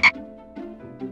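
A cartoon frog croaks in a children's dinosaur animation: a sharp opening click followed by a few low, buzzy croaks spaced about half a second apart, close and clear with no talking.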